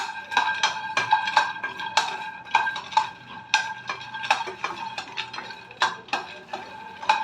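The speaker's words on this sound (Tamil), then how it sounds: "இப்போ நான் இதை நல்லா வறுத்துக்கிட்டுருக்கேன்" Millet and nuts being dry-roasted in a pan, stirred with a metal spoon that scrapes and clinks sharply against the pan in an irregular, fairly quick rhythm, close up, with no talking.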